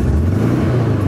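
A motor engine revving loud and close, a short strong rising growl that climbs in pitch over about a second.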